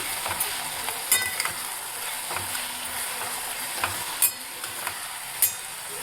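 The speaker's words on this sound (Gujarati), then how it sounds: "લસણ અને ડુંગળીને એકદમ આપણે મિક્સ કરી લેવાનું છે મસાલા જોડે" Onion, garlic and spices sizzle and fry in a pan while being stirred, a steady close hiss broken by occasional spoon scrapes and clinks against the pan.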